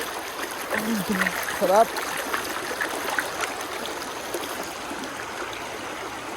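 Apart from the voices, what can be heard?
clear stream water flowing where people bathe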